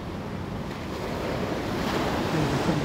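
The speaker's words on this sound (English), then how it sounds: "Some really rogue waves." Rough sea surges and crashes against the rocks along the coast at Eyemouth near the Scottish border, a loud, continuous roar of surf mixed with wind buffeting the microphone.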